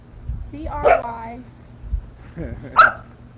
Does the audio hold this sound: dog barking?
yes